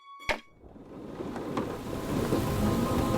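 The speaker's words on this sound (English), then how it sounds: "Outside, the storm raged, and" Storm in a VR fishing puzzle game: a sharp thunder crack opens, followed by steadily building rain that grows louder and denser, with a fainter rumble midway.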